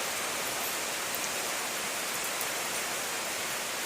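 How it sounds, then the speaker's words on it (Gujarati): Rain beginning to fall at a bull ashram in Rafala village, Amreli district, heard as a steady, even hiss of dense drops with no voices over it. "વરસાદ ચાલુ થઈ ગયો છે"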